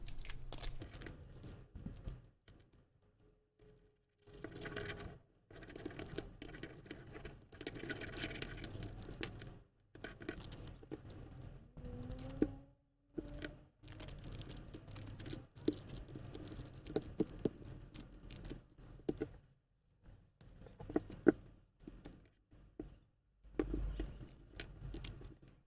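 Stickers are peeled off a Seiko 38mm SNE571P1 diver's watch and its steel bracelet sized with pins and collars, heard as close, intermittent crinkling, tearing and small clicking handling noises broken by short pauses.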